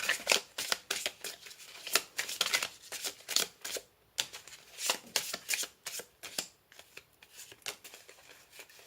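Lenormand cards shuffled by hand during a tarot-style reading: a steady run of crisp, rapid riffling flicks and papery slaps, close and fairly quiet, with no talking.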